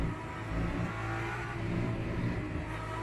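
Peugeot race car in Le Mans Ultimate at Spa on a rain-threatened track, its engine a steady, close, continuous drone that holds and swells slightly throughout, with no talk over it.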